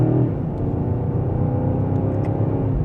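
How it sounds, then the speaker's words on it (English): A 2025 BMW M5 in Dynamic Plus mode accelerates mildly in second gear, a steady, loud low engine rumble and road drone filling the cabin with no talk. "And just a mild acceleration up to speed."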